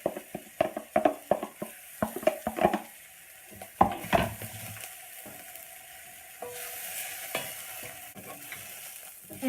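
Red onion, red chilli, garlic and ginger soften in a teaspoon of sunflower oil in a pan, with a steady gentle sizzle and a run of close scraping, knocking stirs from a utensil that thin out toward the end.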